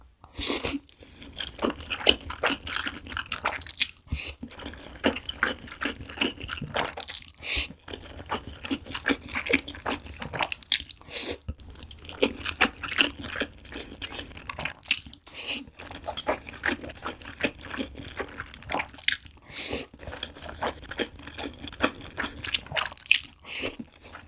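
Close, loud eating of spicy tray jjamppong noodle soup, with repeated slurps, wet chewing and biting sounds spread in bursts over the whole stretch, no talking.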